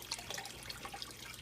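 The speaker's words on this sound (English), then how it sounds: "it's a very, very slow drip" Very slow water drip feeding saline water into a freshwater container to acclimate mollies to saltwater, small scattered drips and trickles sounding close and faint over a quiet background.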